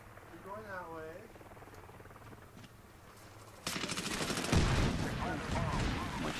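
Bursts of automatic gunfire from the Medal of Honor Warfighter video game, starting partway through and growing louder and denser toward the end, with a voice talking over the opening moments.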